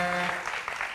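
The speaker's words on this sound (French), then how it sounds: "On va encore applaudir très fort." An audience applauds on a television talk show, a short burst of dense clapping that starts just as a brief tone fades.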